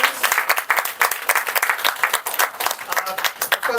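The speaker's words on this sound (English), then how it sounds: "Can we have a great round of applause for all of" Audience at a Toastmasters club meeting applauding guest speakers, a dense burst of many hands clapping at close range, loud and steady throughout with no talking over it.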